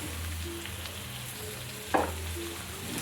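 Rat meat stir-frying in a pan for a spicy basil dish, a soft steady sizzle with a brief scrape of stirring partway through, faint and close, with no talk.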